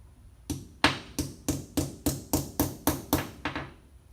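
A hammer striking a tire wheel weight during mounting and balancing, ten sharp metallic blows in a steady even rhythm, close and distinct with brief ringing decay after each hit.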